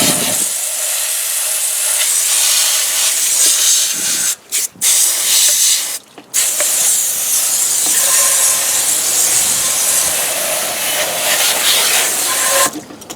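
A pressure-washer spray rinsing a car wheel around the rotor and calipers, a loud, steady hiss running for over twelve seconds, broken by a few short pauses where the spray is cut.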